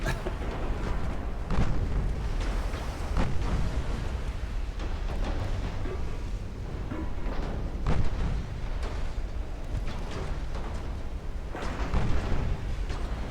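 Booming naval gun fire from a British warship in a video game, one gun at a time, thuds repeatedly in heavy, spaced blasts over a constant rumbling battle background.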